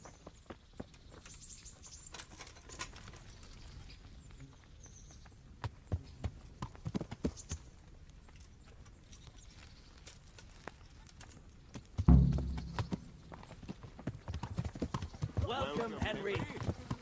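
Horse hooves clip-clopping in the medieval game Kingdom Come: Deliverance, faint irregular steps at first with voices talking, growing louder and busier toward the end.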